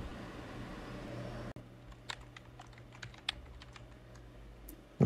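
Light, sparse keystrokes on a computer keyboard while entering a search in Windows, a handful of faint separate clicks over a quiet background hum.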